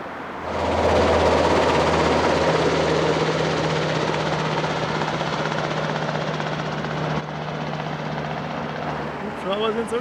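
A helicopter engine starting up near an airfield in northern Norway, a loud steady turbine roar with a low rotor drone that builds after the first second and holds close by throughout.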